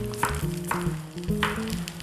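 A corn pancake fries in a pan, giving a steady close sizzle and crackle with a few soft scraping touches, heard under faint tonal background music.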